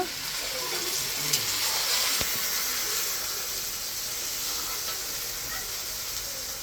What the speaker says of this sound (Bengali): এখন মাংসটা কষিয়ে রান্না করে নেব। এখন টক দইটা দিয়ে দিল।